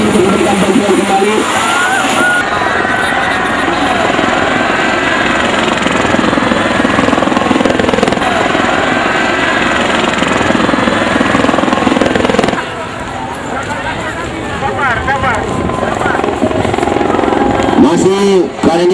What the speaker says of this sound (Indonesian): Apa sekali helikopter kali ini memberikan bantuan kembali.